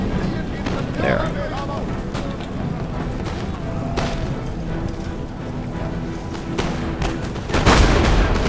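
Cannon fire in the PC strategy game Empire: Total War, with booming shots among a busy battlefield din of musketry and crackle, ending in a louder deep blast near the end.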